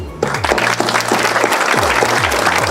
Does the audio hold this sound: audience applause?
yes